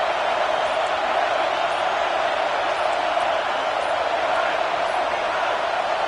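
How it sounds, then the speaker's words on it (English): Football stadium crowd roaring steadily during a red zone defensive stand, a dense, continuous wall of cheering and noise that holds at the same loud level throughout. "And here comes the noise. This crowd is trying to inspire this defense to make a big red zone stop."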